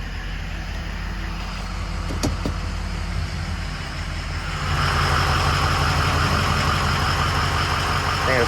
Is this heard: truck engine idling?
yes